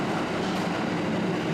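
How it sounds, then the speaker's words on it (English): A Tokyo Metro train rushes past inside the station, a steady, loud roar of wheels and rumble filling the whole moment. "Passing trains can be observed clearly from here."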